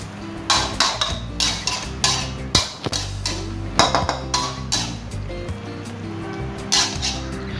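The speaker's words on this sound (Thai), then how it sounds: "จากนั้นก็ทำการผัดให้เข้ากันเลยนะครับ" Pork and long beans are stir-fried in a pan with sugar and fish sauce, and a utensil clanks and scrapes against the metal in irregular bursts, close and fairly loud.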